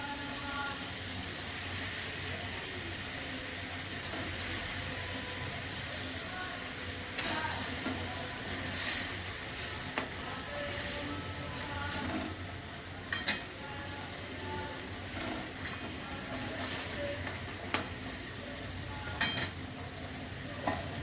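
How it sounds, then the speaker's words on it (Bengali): Pieces of hilsa fish go into a pan of boiling mustard gravy, giving a steady bubbling sizzle with occasional sharp clinks of a utensil against the pan. "ঝোল ফুটে গেছে, এবার আমি মাছগুলো দিয়ে দেবো।"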